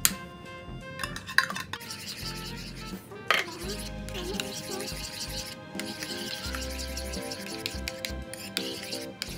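Cream is stirred into macaroni salad in a bowl with a utensil, producing repeated light clinks and scrapes against the dish, with a voice speaking softly in the background.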